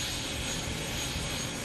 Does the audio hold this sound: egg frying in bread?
no